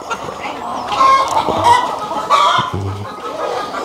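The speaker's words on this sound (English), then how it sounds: "here is where we have the chicken." A flock of chickens clucks steadily on a farm in Kenya, with busy overlapping calls, some close and some farther back, over a constant outdoor murmur and a couple of low thumps.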